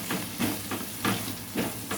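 Tuna chunks and vegetables sautéing in a pan, a soft steady sizzle with faint rhythmic surges as the food is stirred, quiet and close.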